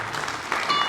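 Brief burst of audience clapping at a university launch ceremony in Gambia, a dense patter of many hands, moderately faint and cut short.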